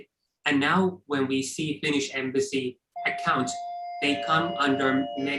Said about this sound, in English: I'm sorry, that bell, if you can hear, is my dinner